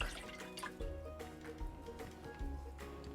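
Water trickles and drips from a cup into a bowl, soft, close and faint, with irregular splashy pours and drops, while a gelatin mixture is prepared for a 3D gelatin flower cake.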